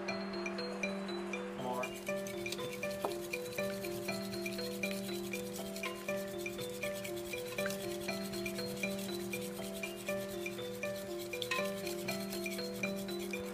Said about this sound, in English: while the milk is simmering, Weedy's going to whisk the egg yolks